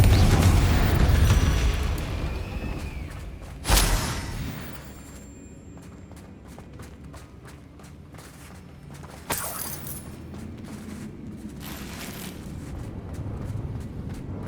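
A Confringo blasting spell goes off in Hogwarts Legacy, with a loud initial boom that fades into rumble, followed later by a second sharper burst and scattered clatter amid game ambience.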